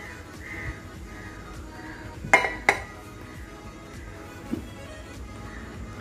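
A drinking glass is set down during a home candle-and-water experiment, giving two sharp close clinks in quick succession, followed later by a softer tap, against a quiet background.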